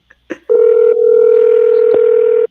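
A phone's steady dial tone, preceded by a couple of short clicks, holds loud and unbroken for about two seconds with a brief tick midway.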